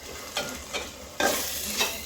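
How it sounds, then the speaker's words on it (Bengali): Masala frying in a pan for a goose curry, a continuous soft sizzle broken by several scraping stirs, close and fairly loud, with no talking. "মশলাটা সুন্দরভাবে কষানো হয়েই আসছে, এখন দিয়েই দিব"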